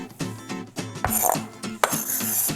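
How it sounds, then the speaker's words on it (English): Knife chopping butter on a cutting board while making classic buttermilk biscuits, giving a run of close, quick clinking knocks against the board in an irregular rhythm. "It's really sticking to the knife. All right, so we'll chop this up."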